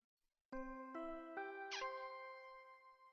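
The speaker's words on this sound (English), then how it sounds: "Ding dong dong ding! A body has been discovered!" A chime in Danganronpa V3: Killing Harmony sounds before the body discovery announcement, a clear four-note bell sequence with a rising twinkle near the end, then a ringing tail that fades out.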